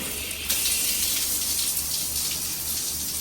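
Water gushes steadily from a reinstalled shower head fitted with an Aquasana AQ-4125 filter after flushing, a continuous close hiss of spray with no talk.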